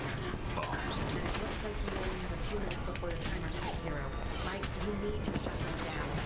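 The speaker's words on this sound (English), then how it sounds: "Let's shoot him with guns." A steady stream of Alpha Protocol gunfire crackles with rapid shots and impacts through a busy combat mix, with a voice speaking over it.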